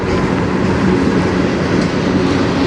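CN manifest freight train hauled by locomotives 3091 and 3280 rolls past in Sarnia, Ontario, a loud, steady, close rumble of railcars with faint wheel clatter and no voices.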